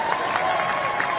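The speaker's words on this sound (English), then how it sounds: "Yeah, you better clap for that one" A live audience claps steadily for a welcome event, a dense wash of applause with a few crowd voices mixed in, fairly distant and even in level throughout.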